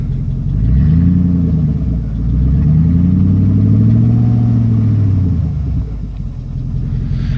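A 2001 Jeep Grand Cherokee with the 4.7 engine idles after a cold start, a loud, steady low rumble that swells and eases slightly as the revs drift, with no voices over it.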